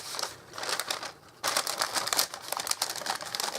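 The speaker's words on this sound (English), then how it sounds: "it's going to be a bit noisy, but I can't help it because it's greaseproof paper" Greaseproof paper being handled while decorating a candle, giving dry crinkling and crackling bursts that stay fairly quiet at first, then turn louder and busier partway through.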